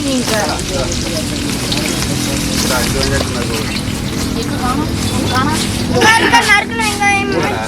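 Onions fry in a pan with a steady crackling sizzle, while voices talk and chatter over the cooking throughout.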